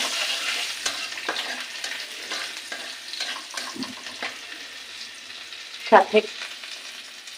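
Whole cumin seeds and chopped garlic sizzle and crackle in hot oil for an egg and spinach dish, a steady close frying hiss with scattered pops and a brief louder spatter near the end, while a voice speaks a word.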